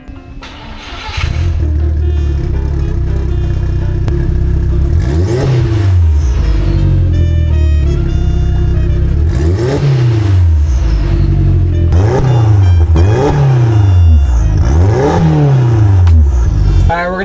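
An Audi TT engine starts, idles with a raw rumble, then revs up and down repeatedly with a harsh, unmuffled exhaust roar, its muffler removed.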